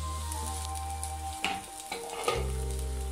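Tomato and onion cook together in a pan, a soft close sizzle punctuated by a few brief stirring scrapes and clatters, over a steady low hum in the background.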